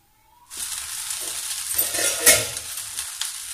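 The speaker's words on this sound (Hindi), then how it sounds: "तो अब कर दूंगी मैं इस सबको अच्छे से मिक्स।" After a moment of quiet, food in a hot pan bursts into a bright, steady sizzle, and a spoon keeps mixing it with soft scraping and one louder clatter in the middle, with no one talking.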